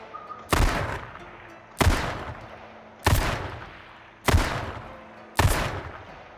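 Five separate loud gunshots fire from a weapon in the H1Z1 video game. Each sharp crack is followed by a decaying echo, and the shots are spaced roughly a second apart.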